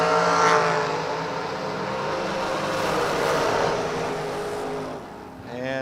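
Drag racing cars, including a Chevy II and a dragster, roar loudly down the strip at a New Year event, a sustained rising engine blast throughout with a brief dip near the end.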